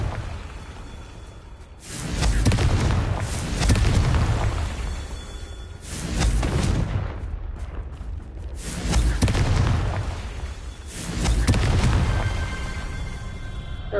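Confringo blasting spells exploding in Hogwarts Legacy, a series of four loud, booming blasts with rumbling tails spaced a few seconds apart, with no voices.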